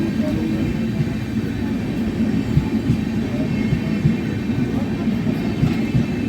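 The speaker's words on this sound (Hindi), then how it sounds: "एक के बाद एक कोई ना कोई ट्रेन, कोई ना कोई राजधानियाँ हमें ओवरटेक करती ही जा रही है।" A passing train rumbles steadily and continuously beside a halted Amrit Bharat Express hauled by a WAP-7 locomotive, a dense low roar of wheels and carriages heard from inside the stopped train.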